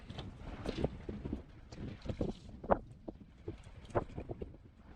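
Wind gusts across a lake around a fishing boat rigged with planer boards, buffeting the microphone as irregular rushing bursts of moderate loudness, with no talking.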